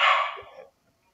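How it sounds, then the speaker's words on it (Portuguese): A dog barks once, loud and close, a short sharp bark that fades quickly into silence. "meu cachorro me desconcentrou um pouco com o barulho"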